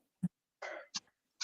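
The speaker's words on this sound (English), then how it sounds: "I'm almost done coughing." A sick person coughs several times, near and fairly quiet: one short hard cough, a longer rough throat-clearing cough, then two more brief coughs with short gaps between them.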